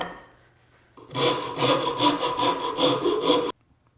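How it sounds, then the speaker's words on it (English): Edges of wooden tenons being rounded over by hand for a flip-top table build, a steady rasping, rubbing scrape of about two and a half seconds in rhythmic strokes, close and fairly loud, with no talking. "we're going to round over the edges of the tenons because the router bit leaves round edges in the mortises"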